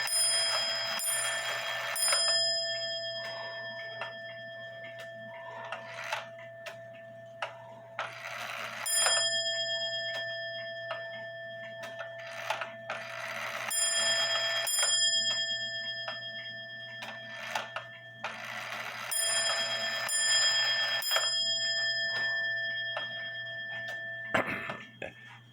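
An antique 1830 Black Forest shield grandfather clock sounds a series of bright, ringing metallic strikes in repeated clusters, each chime decaying into a sustained hum over a steady low background tone.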